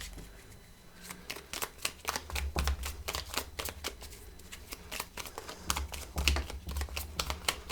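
Tarot cards are shuffled by hand in quick, crisp riffling bursts, a dense run of close, soft slaps and flicks repeating throughout.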